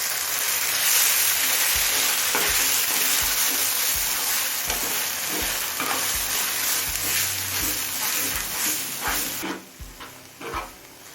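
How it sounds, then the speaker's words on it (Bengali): Ground arum stalk paste is stirred into onions already fried red in a pan. A continuous loud sizzle runs throughout, with a steady rhythm of spatula scrapes, about one per half second, before it thins out and quiets near the end. "পেঁয়াজের সাথে সবকিছু ভালোভাবে মিশিয়ে নিয়েছি"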